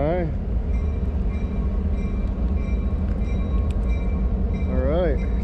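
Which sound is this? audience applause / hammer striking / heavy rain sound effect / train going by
train going by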